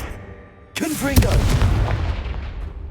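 A fire spell blast in the Hogwarts Legacy video game goes off with a sudden sharp crack followed by a rolling, booming roar that slowly fades, with a brief voice shout over the start.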